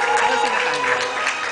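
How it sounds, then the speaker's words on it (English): Audience applause for a performer at a medley stage show, dense crowd clapping with cheering voices mixed in, loud and continuous over a brief stretch. "can we give a big hand to the Everdynamics, Cheryl Quiñones."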